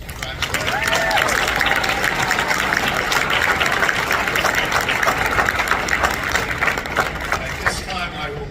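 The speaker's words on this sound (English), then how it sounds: "give yourselves a round of applause" Sustained applause from a large crowd at a court officer graduation ceremony, steady and dense throughout with no pauses, clapping filling the whole stretch.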